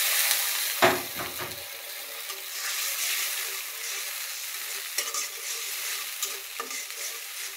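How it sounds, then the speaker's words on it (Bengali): A little water poured into frying spice masala for chicken curry, a loud burst of hiss and bubbling followed by a steady close sizzle with occasional stirring clinks. "এখন আমি একটু সামান্য পরিমাণ পানি দেব।"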